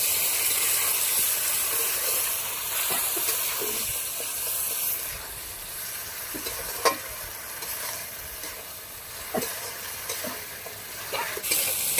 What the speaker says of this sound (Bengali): মশলাটা কষিয়ে নেবো ভালো করে বাটি ধোয়া জলটা দিয়ে দেবো